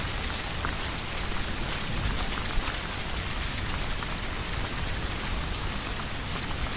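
Steady, dense video game rain pattering across surfaces, a constant hiss with scattered droplet ticks and no pauses, fairly loud and close.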